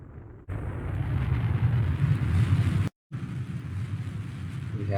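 A rocket engine in Kerbal Space Program starts with a sudden steady roar that fills the clip, cuts out briefly and then resumes as a continuous rumbling thrust.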